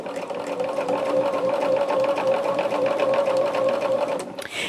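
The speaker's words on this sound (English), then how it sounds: "So we are going to just match all of these up and just sew them up" A sewing machine runs steadily for several seconds, stitching quilt mushroom pieces together with a constant whirring hum close to the mic, before stopping near the end.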